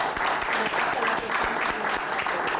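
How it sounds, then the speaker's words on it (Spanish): An audience claps steadily throughout, a moderate, even patter of applause with voices mixed in underneath. "Un aplauso."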